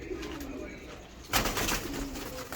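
A pigeon from a flock of kept high-flying racing pigeons coos softly, a low murmuring call against a faint background hiss, with a brief louder rustle midway.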